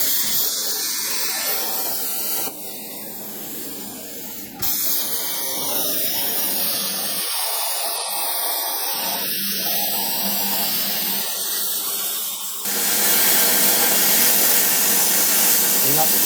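A machine cuts a 5/16-inch brass plate for traction engine cylinder end covers, giving a steady, loud broadband hiss that runs the whole time, with brief dips and a brighter, harsher stretch near the end.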